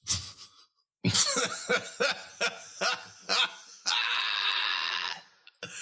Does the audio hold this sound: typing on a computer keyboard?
no